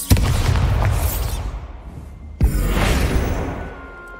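The Bombarda explosion spell in the video game Hogwarts Legacy fires twice, each a loud close boom followed by a rumbling, crackling decay, the blasts a little over two seconds apart with no talk.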